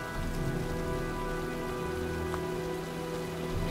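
Steady rain falls throughout in the video game Heavy Rain, a dense even patter with a faint low rumble underneath and no voices.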